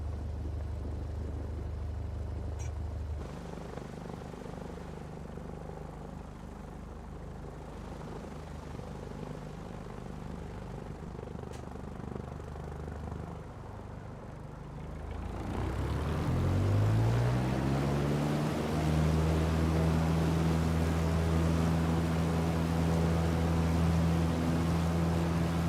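An aircraft taking off in Flight Simulator 2024: a steady engine drone sits low, then the engines spool up into a loud, rising whine and roar that builds through the second half.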